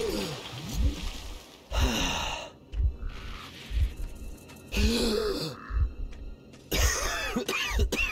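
Labored asthmatic breathing from the video game Metro Last Light Redux: heavy wheezing gasps and raspy exhalations come in repeated bursts, loud and close, with low thuds between them.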